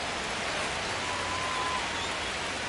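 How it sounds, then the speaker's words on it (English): Rain falls steadily on a baseball field during an MLB The Show 25 video game. It makes a dense, even patter and hiss that continues without a break. "the field's not going to be able to hold up if the rain gets any worse than this"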